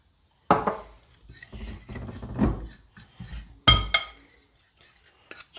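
A utensil clinks and scrapes against a bowl while stirring paprika, garlic salt and parsley seasoning, a series of uneven chinks and knocks with two sharper clinks near the end and no talk.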